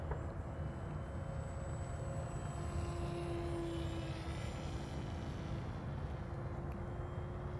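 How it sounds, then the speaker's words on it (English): A SkySurfer Pro RC plane flies inverted, its electric motor and propeller holding a steady, continuous whine at moderate distance with little change in level throughout. "do a little bit of SkySurfer Pro inverted flying"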